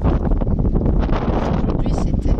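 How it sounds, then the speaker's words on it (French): Strong wind buffets a moving Mercedes van on a road and motorway ring road, a loud, steady roar with gusty rumble that fills the whole stretch. "Et là, il y a beaucoup de vent."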